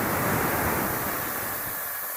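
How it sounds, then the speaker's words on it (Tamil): Water poured into a pan of roasted moong dal and sago while making payasam, a steady broadband rushing pour that runs continuously and close, slowly easing off toward the end, with no talking. "தண்ணி சேர்த்துக்கலாம்."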